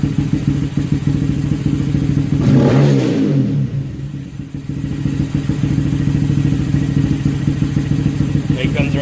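Honda Grom motorcycle engine idling nearby with a fast steady putter, briefly revving up loudly before dropping back to a rhythmic idle.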